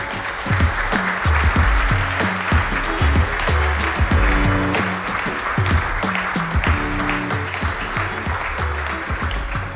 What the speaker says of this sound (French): Un tonnerre d'applaudissements pour Hugo Micheron.